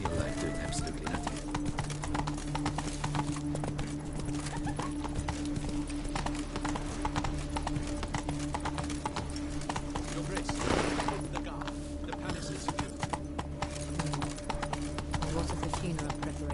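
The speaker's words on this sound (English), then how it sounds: "Whoa there, Roach." Horse hooves clip-clopping in a steady walking rhythm, the mount Roach in The Witcher 3 video game, heard clearly and continuously over an ambient game soundscape with a steady background hum.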